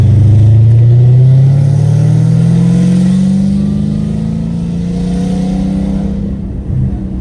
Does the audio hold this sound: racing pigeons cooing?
no